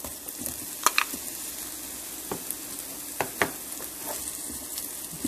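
Sliced onions and button mushrooms sizzle in a pan during a cooking class, a soft steady fry with occasional sharper crackles and pops, close and without talk.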